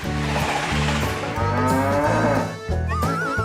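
Several cows moo loudly and continuously, their deep, drawn-out calls overlapping one another close by, with a short pause before more lowing.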